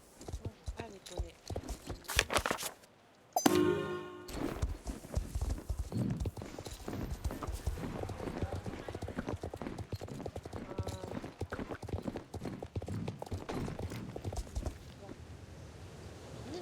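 Pony hooves clip-clop steadily through a video game world, a continuous rhythmic trotting heard alongside game sound and a voice talking over it.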